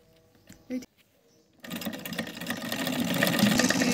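Sewing machine stitching a fabric divider, its steady mechanical whir starting abruptly after a few quiet taps and faint clicks, then running continuously and growing slightly louder to the end.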